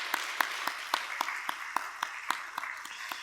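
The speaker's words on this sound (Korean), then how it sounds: "우리 박수로 환영하도록 하겠습니다" A church congregation claps in welcome for a newlywed couple at a Sunday worship service, the applause steady and rhythmic with evenly spaced, fairly loud claps over a roomy wash of sound, and no voices over it.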